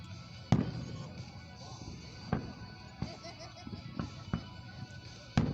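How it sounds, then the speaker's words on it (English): Fourth of July fireworks show in Van Wert, Ohio, with several distant booms spaced a second or so apart over a quiet crowd murmur, and people talking and exclaiming between bursts. "fireworks are so beautiful, aren't they?"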